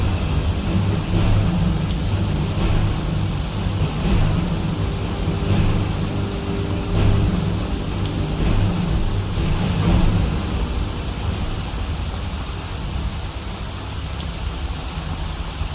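Heavy rain hisses steadily in the fantasy game Skyrim, with low thunder rumbling underneath and swelling at moments, loud and continuous with no speech.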